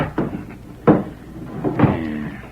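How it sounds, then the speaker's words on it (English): A wooden door being barred shut: a short series of hard wooden thumps and clunks, followed by a scraping slide as the bar settles into place. The sounds are close and come without talk. "Better make sure the door's barred tight."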